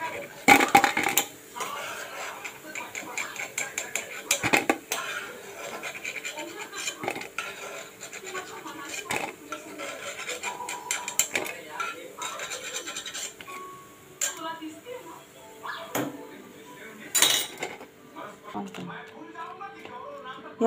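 Metal utensils clink and scrape against a pan while freshly fried kothimbir vadi, coriander fritters, are lifted out, irregular close clatters and rasps, with a person talking intermittently throughout.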